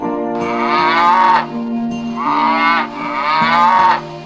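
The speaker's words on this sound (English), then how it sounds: "cow" A cow moos three times in a row, loud and close, each call a long drawn-out low bellow with no other sounds around it.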